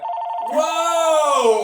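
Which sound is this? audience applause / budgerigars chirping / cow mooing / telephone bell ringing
telephone bell ringing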